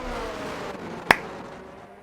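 A single sharp clap or snap rings out once in the middle, close and crisp against a quiet background, given as applause for an F1 league driver.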